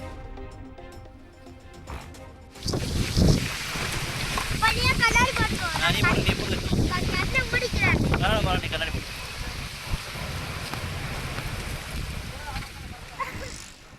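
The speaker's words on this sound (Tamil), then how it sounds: "சென்னையின் புறநகர்களில் திடீரென வீசிய புழுதிக் காற்று." A sudden gusty dust wind sweeps through the Chennai suburbs, a loud broadband roar of rushing air buffeting the microphone, starting abruptly and staying steady for several seconds.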